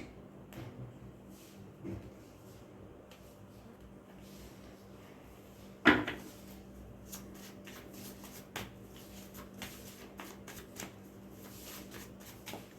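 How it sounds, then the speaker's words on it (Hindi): Deck of cards shuffled by hand in a quiet room, soft rustling and riffling over several seconds with one sharp louder snap midway, faint and close. "शफल कर लेते हैं अच्छे से"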